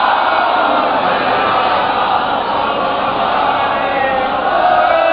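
An audience at a religious poetry gathering in Banaras chants a welcoming slogan together, a dense continuous roar of many voices that stays loud and steady throughout.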